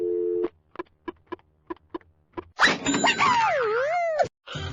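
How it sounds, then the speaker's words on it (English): Telephone keypad tones dialing 867-5309 in the game You Don't Know Jack beep out one by one, followed by a warbling, sweeping electronic line tone and an abrupt cutoff. "What does it sound like when you dial 867-5309?"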